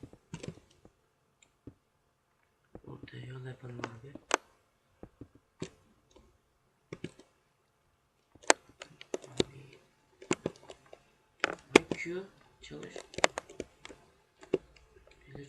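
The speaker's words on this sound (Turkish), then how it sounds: "Tuşa basıyorum tuş atmıyor." Keyboard keys are pressed in bursts of sharp close clicks and taps during a Minecraft Egg Wars game, some single and some in quick clusters, with a voice talking between them.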